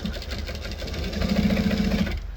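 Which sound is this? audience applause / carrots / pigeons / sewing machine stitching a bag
sewing machine stitching a bag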